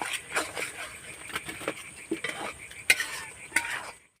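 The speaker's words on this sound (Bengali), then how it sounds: "এবার আমি সব কিছুকে একসাথে ভালো করে কষিয়ে নেব" Spiced chicken braises in a pan with yogurt under quiet, intermittent stirring: soft scrapes and knocks in an uneven rhythm with a low background sizzle, close and fairly faint.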